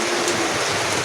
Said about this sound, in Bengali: কারণ বৃষ্টি যে নামছে